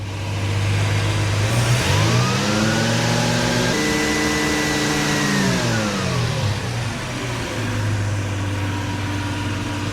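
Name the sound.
car engine revving up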